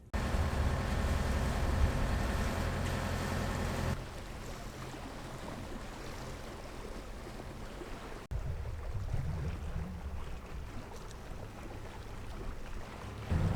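Boat motoring past a resort island with an expensive hotel, a steady low engine drone mixed with wind buffeting and water wash throughout, loud and close, with a brief drop in level partway through.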